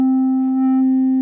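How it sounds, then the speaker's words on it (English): A Vermona PERfourMER MKII analog synthesizer plays one steady sine-like tone, a single sustained low note held evenly throughout at moderate loudness with faint upper harmonics. "That's the sine wave."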